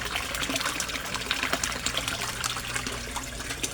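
A submersible pump in a koi fish setup pushes out a strong, steady flow of water with a continuous close splashing rush.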